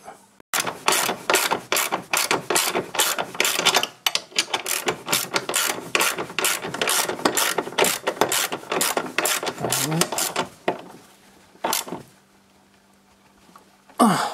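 A hand ratchet tightens 13 mm bolts during a timing belt replacement on a 2006 Audi A3 Sportback, giving long runs of rapid, close clicking bursts. A pause follows, then a few final clicks near the end.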